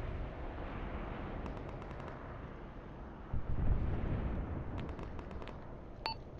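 Bombs dropped from an aircraft explode in Arma 3, heard as a steady, distant, low rumbling roar. A thicker, louder thump-like swell comes partway through, and faint clicks are scattered over the top.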